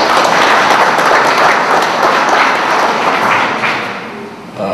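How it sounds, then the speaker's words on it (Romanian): An audience applauds a graphic artist at a Romanian National Day event, with dense, sustained clapping that holds steady before fading slightly near the end. "Vă rog să-l aplaudeți."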